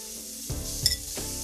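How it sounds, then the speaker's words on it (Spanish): Garlic, onion and colored peppers sautéing in a pan, a steady close sizzle with a few scraping stir strokes and a light utensil clink. "Y vamos a sofreír eso por unos minutitos antes de echar nuestro jackfruit"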